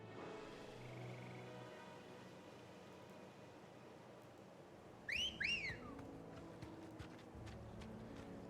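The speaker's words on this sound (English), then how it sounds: "Interesting choice they did for a whistle there." A rising, pitched whistle calling a horse in Final Fantasy 16 rings out clearly as a short burst of two or three chirping notes, heard over a steady low field ambience and rumble with no talking.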